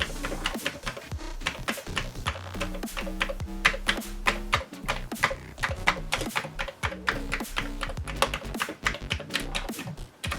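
Fingers type rapidly and steadily on a Commodore 128 keyboard that has a couple of sticky keys, producing dense, close clacking keystrokes throughout with no pauses.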